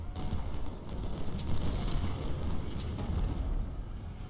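Cannon and artillery fire on a Civil War battlefield at Antietam in Ultimate General: Civil War, a dense, rumbling wash of distant booms blending into a steady low roar.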